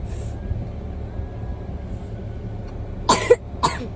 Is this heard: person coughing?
yes